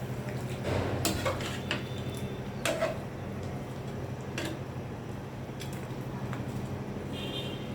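A metal lid clinks onto a cooking pot of chicken stew in a home kitchen, a few sharp clatters in the first three seconds, then a low steady simmer hum, with no talking.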